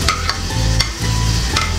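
A spoon stirs bhuna aloo (spiced potatoes) in a pan, scraping and clinking in quick, irregular strokes over a steady low sizzle of frying, close and fairly loud, with no talking.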